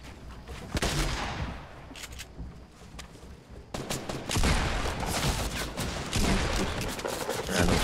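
Heavy video game gunfire on a private server match, with dense automatic bursts and single sharp shots at loud and middle distances that continue throughout, getting stronger after a brief dip.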